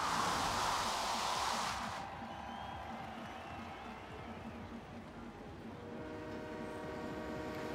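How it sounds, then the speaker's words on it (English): A freight train rolls past in Forza Horizon 3, a loud broad rumble that drops off after two seconds into a steady, lower mechanical drone with faint tonal hums, no talk. "It's a train. It's a freight train."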